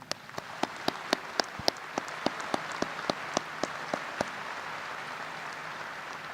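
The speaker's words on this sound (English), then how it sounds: "Let's have another round of applause for the class of 2018." At a 2018 Farmer School of Business graduation ceremony, a sparse audience claps for the graduating class, with a dozen or so sharp, distinct hand claps standing out over a soft background murmur before tapering off.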